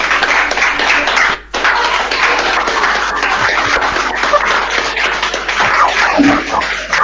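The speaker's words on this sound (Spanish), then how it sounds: "Un aplauso de despedida, si queréis abrir micro, si aplaudir libremente." Farewell applause from an audience at the close of a talk on the climate emergency, a steady dense patter of many hands clapping for several seconds with a brief gap, loud and continuous.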